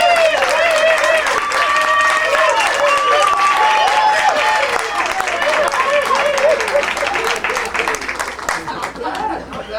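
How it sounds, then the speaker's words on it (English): A church audience at an Emerson College event in Boston claps loudly and continuously to vote for a preferred candidate, with scattered cheers and chuckles, while a voice talks over the applause. "So, I want you to applaud."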